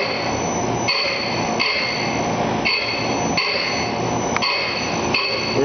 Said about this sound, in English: We're using a very hard dressing wheel because this is a Boroson wheel and it is so hard.